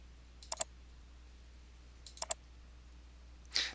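Mouse button clicks during work in Excel 2010 spreadsheet software: two quick double clicks about two seconds apart, faint and close, over a quiet background hiss, followed by a brief soft rustle at the end.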